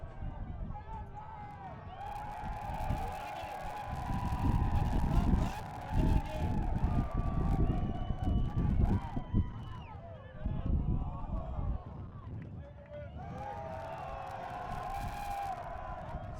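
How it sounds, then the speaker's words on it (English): A Portland crowd cheering at an ultimate frisbee game between NexGen and the Portland Rhino, with bursts of cheers and whoops rising and falling over about sixteen seconds beneath steady commentary. "Minderhout got the Portland crowd fired up and now sitting back down."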